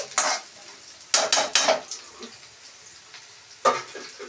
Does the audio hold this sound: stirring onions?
yes